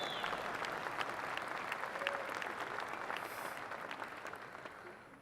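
A large audience at a telecommunications industry opening ceremony claps steadily in a dense, even wash of applause that tapers slightly toward the end, heard from a distance in a big hall.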